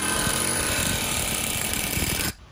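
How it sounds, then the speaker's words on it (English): Hammering a pinion yoke off a Toyota 8-inch rear differential in a workshop: a rapid, dense stream of loud metallic blows that runs continuously, then stops abruptly near the end. "You can hammer the yoke off this way."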